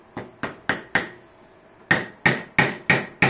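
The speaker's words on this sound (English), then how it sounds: "so let's hammer it in here" A hammer drives into a blank piece of wood in eight sharp, ringing strikes: four quick blows, a brief pause, then four more at a steady rhythm, close and loud with no voices.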